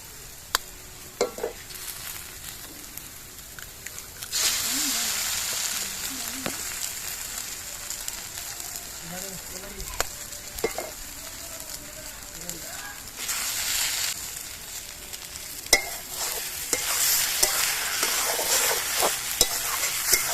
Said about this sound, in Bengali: এবার ডিম দিয়ে সবজিটা ভালো করে মিশিয়ে দিচ্ছি